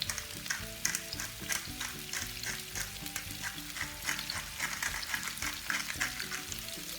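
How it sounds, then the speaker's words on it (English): Zucchini seasoned with salt and pepper fry in a hot pan, giving a steady close sizzle with crackling and stirring clatter throughout, and no one speaking. "So the zucchini, I can put them in."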